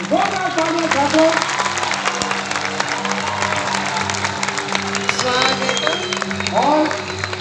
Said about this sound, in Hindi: जोरदार तालियां छात्रों।